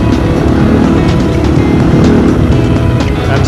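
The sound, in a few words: Dakar rally Kamaz truck and cars driving off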